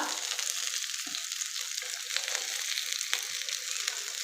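Potato and chicken cutlets crackle and sizzle steadily in hot oil, a continuous close frying hiss with scattered pops throughout and no talking.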